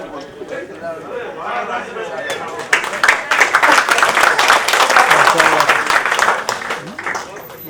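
Audience applause at a ghazal and mushaira poetry gathering swells from scattered claps into sustained, loud clapping, with crowd chatter underneath.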